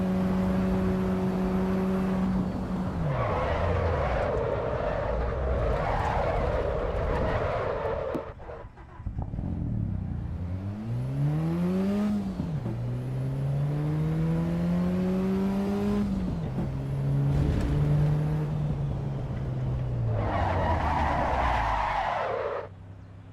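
Porsche in the racing game Assetto Corsa Evo, engine revving up and down through gears while tires skid and squeal repeatedly, loud and close, with short dips between runs.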